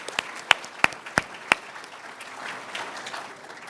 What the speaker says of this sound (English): Let's give Evan and the Montgomery Inn team a round of applause.